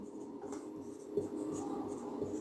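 Someone writes a statement on a classroom board, producing faint scratching and tapping strokes in a quiet room, with a few soft knocks of the writing tool.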